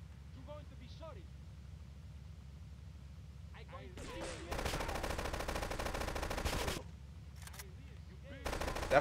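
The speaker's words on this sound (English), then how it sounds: "That fucking shotgun took me out" Heavy gunfire from a shotgun and other weapons in Grand Theft Auto III Definitive Edition, loud broadband blasts clustered between sustained bursts, with a voice talking over the quieter stretches.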